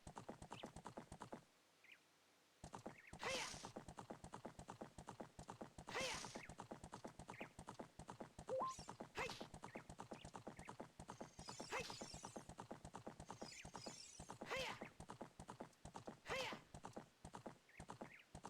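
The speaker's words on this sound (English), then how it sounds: "Get along, little horsey." Horse galloping and neighing in Zelda: Ocarina of Time, fast rhythmic hoofbeats running almost throughout, broken by several loud whinnies and a brief pause near the start, fairly faint overall.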